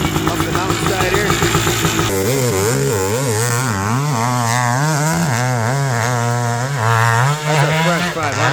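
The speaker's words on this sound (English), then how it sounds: "Got a KX 500 about to send it up the mountainside here." A Kawasaki KX 500 two-stroke dirt bike revs hard on a hill climb at an AMA national event, its loud, raspy engine rising and falling in pitch as it climbs, close and continuous with voices under it.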